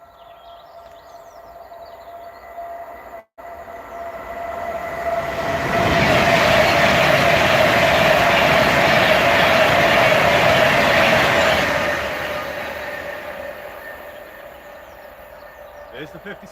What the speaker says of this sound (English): here comes the Pendolino from the north